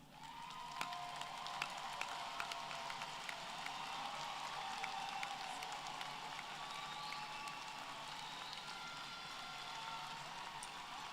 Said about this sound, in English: graduates, it's your chance to give them a round of applause.